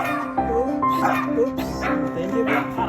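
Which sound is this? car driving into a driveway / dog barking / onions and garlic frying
dog barking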